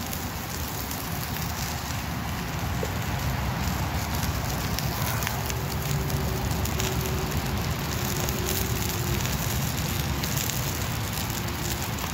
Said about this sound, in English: Oh yeah, listen to that sizzle, baby.